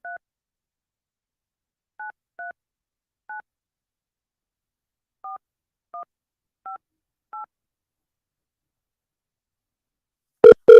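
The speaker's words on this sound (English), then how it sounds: "I dialed the number wrong." Touch-tone telephone keypad dialing a number: eight short, evenly spaced dual-tone beeps spread over several seconds in near silence, followed by a brief louder burst at the end.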